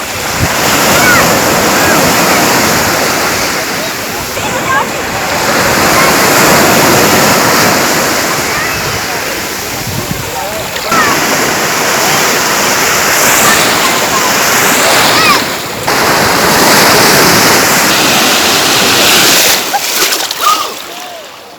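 Loud, close sea waves on a beach, rolling in as repeated broad crashing washes with splashes and wind rushing over the microphone, sustained for about twenty seconds before fading near the end.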